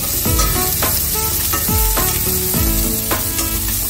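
Onion and green chili sauté in a hot pan for sardines with pechay, giving a loud, steady sizzle with a few stirring scrapes and a faint tonal hum underneath.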